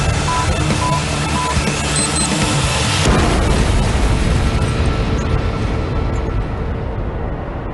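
A bomb explosion in Beirut, heard as a dense, loud rumbling roar with a sharper burst partway through, followed by sustained chaotic noise and debris-like clatter, with no voices.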